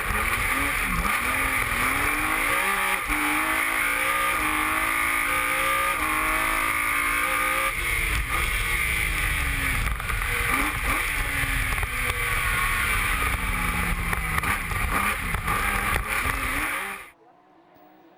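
Patrick Sneijers's two-wheel-drive BMW rally car at the 2013 Sezoens Rally, engine loud and close throughout, revving hard with rising pitch through gear changes, cutting off sharply near the end.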